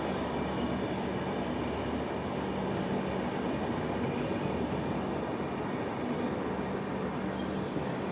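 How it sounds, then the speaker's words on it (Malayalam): Shan-e-Punjab Express, a New Delhi–Amritsar Intercity passenger train, roaring past close by with a steady loud rumble of wheels and carriages, faint squeals and clatter, no talk. "Shaan A Punjab express, New Delhi Amritsar intercity express ആണിത്."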